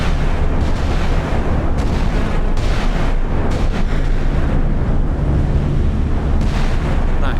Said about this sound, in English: That might be the best gun battle yet.